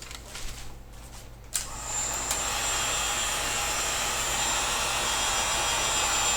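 After a faint shuffle, a heat gun switches on with a sudden whoosh and keeps blowing in a steady, loud, airy roar while heating the end of a PVC pipe.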